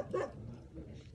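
A dog barks once and then whimpers and yips close by, in a short burst over a low, murmuring background.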